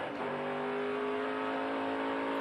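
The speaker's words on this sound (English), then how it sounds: "You hear him through the SS, shifting into high gear, running down the back straightaway." Onboard a NASCAR Craftsman Truck Series truck at a road course, the engine drones steadily at high revs down a straightaway after a quick upshift near the start, a continuous loud harmonic roar.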